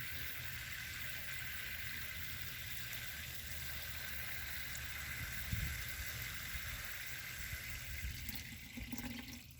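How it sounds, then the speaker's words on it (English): Steady water stream soaking a plant in a black canvas grow bag, a constant gentle splash and trickle heard close and quiet, with a few brief bumps and shifts near the end. "nothing like watering a plant."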